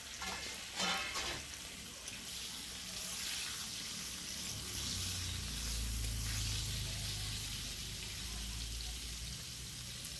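Cut pointed gourd (potol) going into a pan of frying potatoes: a few soft knocks at first, then a faint, steady sizzling hiss that holds at a low level throughout.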